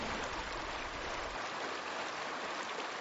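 Trickling stream water near the Continental Divide, a soft continuous close babble that runs steadily throughout with no voices.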